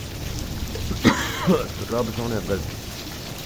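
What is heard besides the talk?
heavy rain falling at night in Malakwal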